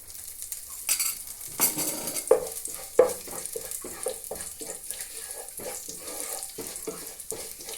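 Ground fenugreek powder fries in a pan, with faint sizzling beneath close, repeated scrapes and clinks of a utensil stirring against the pan.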